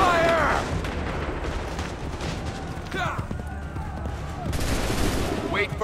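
Musket volleys crackle across a battlefield in Assassin's Creed III, with scattered shots and several louder bursts over a dense background of combat noise, hooves and shouting soldiers.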